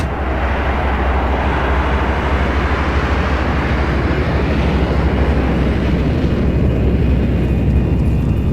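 An airplane in a video game, heard from aboard after boarding at an airport, gives a loud, steady low engine roar that drones on without change, no voices over it.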